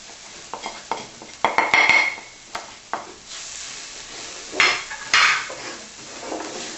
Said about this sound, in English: In goes our ginger, garlic, curry powder and chilli.